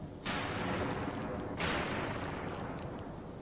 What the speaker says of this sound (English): there's a fairly normal explosion just coming out of there